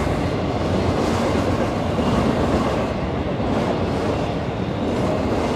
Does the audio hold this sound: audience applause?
no